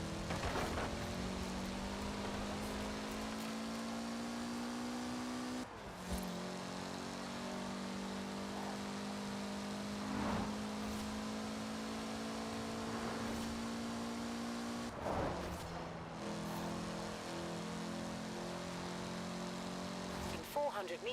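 A Koenigsegg's engine drones and rises in pitch, revving in a driving video game and repeatedly climbing before dropping back, loud and continuous, with a person talking and a navigation voice over it.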